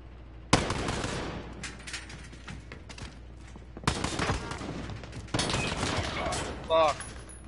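Gunfire in a co-op video game: loud, sudden bursts of rapid automatic shots break out in three separate volleys, each trailing into rattling echoes, with a brief mechanical whir near the end and some quiet talk underneath.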